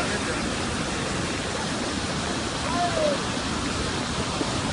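Rain-fed floodwaters and waterfalls at Aqabat Saqin, Tanomah, give off a loud, steady roaring rush of water that fills the whole scene without pause.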